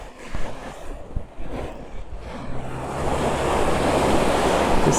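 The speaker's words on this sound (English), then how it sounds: "You see the waves." Mediterranean sea waves washing against the rocky coast at Cadaqués on the Costa Brava, a steady rushing surf that swells louder over the last seconds, with some wind buffeting the microphone early on.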